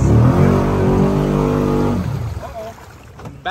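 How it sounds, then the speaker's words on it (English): A Kawasaki Teryx off-road vehicle on portal lifts and 42-inch tires revs loudly and steadily in reverse, a deep engine drone that drops away after about two seconds into rougher, uneven sputtering. "Put her in reverse, Terry."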